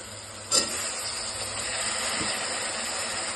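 Cut carrot, beans and potato pieces land in a hot pan for vegetable biryani with a brief soft thump. A steady hiss and sizzle follows and holds quietly throughout.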